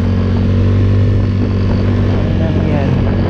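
Yamaha Mio Soul 125 scooter engine drones steadily and loudly while riding and overtaking, with a continuous low hum and wind noise under excited voices.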